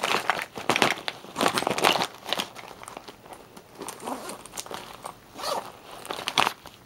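A makeup pouch being zipped shut, several quick rasping zipper pulls in uneven bursts close by, mixed with light crinkling of the fabric.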